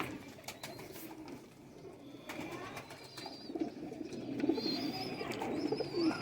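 Fancy pigeons coo softly in a loft, with repeated low throaty calls building toward the end, faint and with some background noise.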